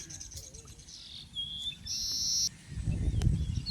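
Weaver birds at their hanging nests give high chirps and a sustained shrill call, with a low rustle or rumble rising toward the end.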